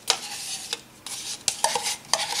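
Sour yogurt is stirred into crumbled cheese, a run of close, wet, scraping strokes of a utensil against a bowl in quick irregular bursts.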